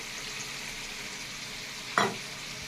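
Diced potatoes with whole cumin, dried red chilli and bay leaf fry in oil in a wok, giving a steady soft sizzle with one sharp clatter near the end.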